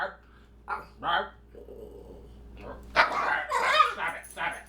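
A dog gives a few short yips and growly barks at close range, mixed with whimpering sounds and people talking nearby.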